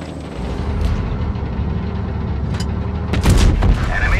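Heavy tank gun blasts and shell impacts on armor in WoT Blitz, with a rumbling engine bed and a sharp, loud cluster of hits near the end.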